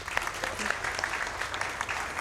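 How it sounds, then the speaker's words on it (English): Audience applause at a speedrun charity relay marathon, a steady patter of many hands clapping with no pause. "Can we get an applause?"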